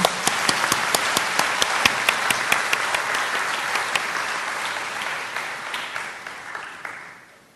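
An audience bursts into congratulatory applause at a Toronto business seminar, dense clapping with sharp individual claps standing out, steady for several seconds before tapering off near the end.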